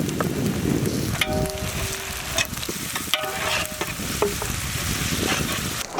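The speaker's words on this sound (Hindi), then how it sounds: "अदरक लहसुन पेस्ट ऑयल में अच्छी तरह भुने के बाद इसी में हम लोग टमाटो प्यूरी ऐड करेंगे।" Ginger garlic paste fries in oil in a pan for chicken nasi biryani, giving a dense, continuous sizzle with occasional stirring scrapes and clinks close by, and no voices.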